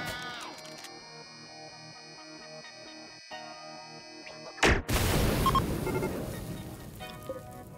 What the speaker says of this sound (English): And then the Mega Cannon.